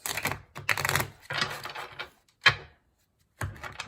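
Tarot cards riffle and snap in quick bursts with short pauses between, close by and crisp, ending in a sharp tap.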